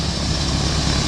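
The first engine of a propeller airplane runs as a steady broadband drone, heard nearby for a brief moment with no voices.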